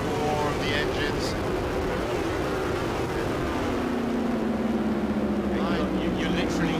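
1,000cc superbikes race past at a 2017 MSBK round, their engine roar sweeping by with a falling pitch as they pass, loud and continuous under a commentator's voice.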